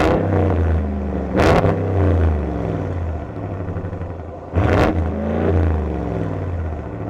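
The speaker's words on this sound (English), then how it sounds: "The sound of that exhaust, especially that was updated on the 2026 Ram 1500 Hemi, it's got a new unique tone" A 2026 Ram 1500 with the Hemi V8 revs hard through its updated exhaust, a loud close rumble that swells in two sharp bursts over a steady deep idle, with no talking.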